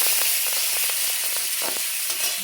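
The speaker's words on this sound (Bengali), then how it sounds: "দিয়ে এবার টমেটোটা দিয়ে দিচ্ছি" Tomato dropped into hot oil with bay leaf and cumin sizzles in a steady, loud hiss, with faint crackles and stirring scrapes throughout and no talk.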